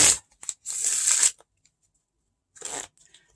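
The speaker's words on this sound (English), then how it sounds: "So we need to make sure that they're shuffled really, really, really well." A deck of playing cards is shuffled up close in a few quick riffling bursts, with a long pause between the first group of flutters and a final short riffle.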